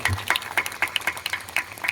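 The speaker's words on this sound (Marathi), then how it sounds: "जोरदार टाळ्या वाजवून स्वागत करा." Applause welcoming guests at a Bhagavat katha religious discourse: a short burst of distinct claps in a loose, quick rhythm from a modest crowd.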